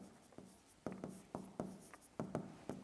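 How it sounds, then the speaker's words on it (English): Pen strokes scratch across paper in short bursts while notes are written by hand, close and quiet, with small pauses between words. "I am going to write down that principle also."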